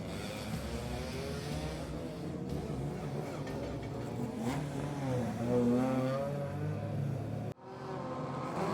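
Several cars in an Improved Production Under Two-Litre race roar off the start at Sydney Motorsport Park in dry conditions, engines revving hard and rising in pitch, loud and close, with a short sudden dip near the end.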